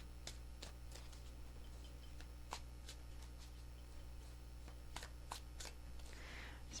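Tarot cards shuffled three times, giving soft riffling snaps and brief flicks at a steady hand pace, fairly faint and close over a low steady hum, with no talk.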